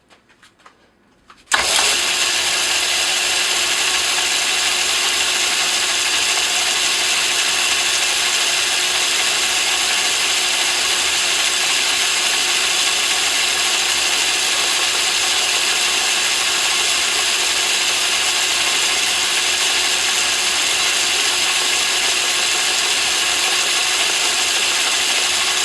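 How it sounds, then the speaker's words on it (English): A grooving tool cuts the edge of a radial engine hub, likely turning on a lathe, with a loud, steady rasping mechanical whir that starts abruptly after a quiet moment and holds constant, close and without talk. "I forgot I had this grooving tool from Banggood, so I just got to take a little bit more off of the edge of this."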